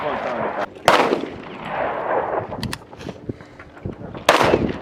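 Loud gunshots crack outdoors at a Queen Valley shooting session, two sharp blasts a few seconds apart with rolling echoes between them and faint voices underneath.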